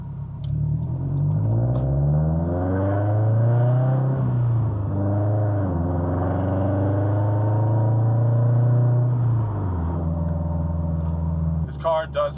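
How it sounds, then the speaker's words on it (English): Car cabin noise with the air conditioning on: a constant low interior rumble with engine tones that rise and fall as the car accelerates and eases off, steady throughout with a few clicks near the end. "This car does have a lot of cabin noise, especially with the AC on and music playing and stuff like that."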